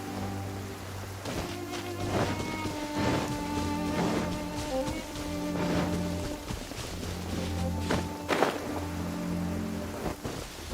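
Steady rain falls in Genshin Impact, an even hiss of drops across the whole stretch with a low rumbling undertone and faint tonal ambient music beneath, and no voices over it.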